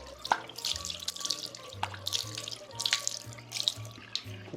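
Running water from a sink rinses face cleanser off skin, with steady faucet flow, repeated splashes and drips as hands scoop water, close and moderately quiet with no voices.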